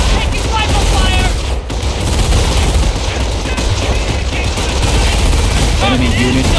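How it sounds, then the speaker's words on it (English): Rifle and machine gun fire in the Company of Heroes video game, a loud continuous battle din of overlapping bursts and shots with explosions mixed in, lasting throughout. "Taking rifle fire!"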